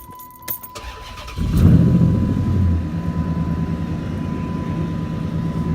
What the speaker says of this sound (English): Okay, so now I'm going to start the car.